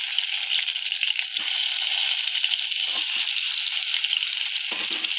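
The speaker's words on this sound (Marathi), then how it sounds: "आता मी त्याच्यात एक एक करून ही वांगी" Eggplants sizzle steadily in hot oil in a pot, a loud, continuous bright frying hiss with brief crackles and soft stirring knocks near the end.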